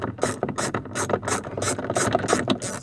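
A ratchet with a deep 10mm socket clicks rapidly as it undoes a bolt behind the C-pillar trim of a Saab 9-3, a close, loud, steady run of sharp pawl clicks in quick bursts.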